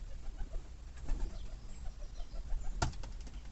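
Pigeons give soft, close cooing murmurs, punctuated by one sharp, brief flutter of wings near the end.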